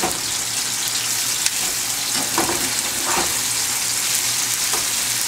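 Almond curry salmon sizzles loudly and steadily in a pan after being flipped, with a few sharper spits and pops rising out of the close, continuous frying.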